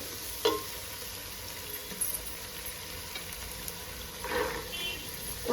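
Vegetables frying in a little oil for a vegetable pulao give a soft, steady sizzle, broken by a few brief stirring scrapes and clicks. It stays fairly quiet throughout with no talking.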